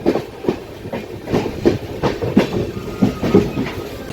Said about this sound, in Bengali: এখন ট্রেন কুচবিহার থেকে নিউ আলিপুরদুয়ারের দিকে বেঁকে যাচ্ছে এই বড় কার্ভটা নিয়ে।